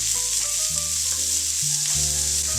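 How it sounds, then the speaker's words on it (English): Spinach added to a hot pot with butter and garlic, a steady loud hiss of sizzling frying close up, continuous throughout with a faint musical tone underneath and no talk. "now it's at this point where we want to go ahead and add the spinach back into the pot"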